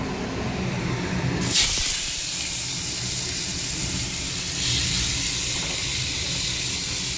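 Chopped tomato drops into hot oil already holding mustard seeds and dried red chili for a tomato dal, a sudden loud sizzle and hiss that settles into steady frying with a second surge, close up and without speech.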